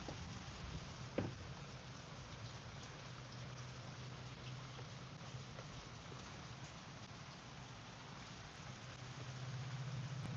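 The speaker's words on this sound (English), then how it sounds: "But we'll have a little storm." Steady rain falls during a Florida storm, a constant dense hiss outdoors with one brief sharp knock early on and a faint low rumble underneath, and no voices.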